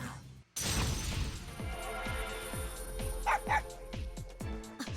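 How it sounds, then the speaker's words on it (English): A dog barks sharply again and again in the video game Persona 4 Arena Ultimax, a quick, even rhythm, close and fairly loud, with a brief silence just before the barking starts. "sharp barking brings me to my senses"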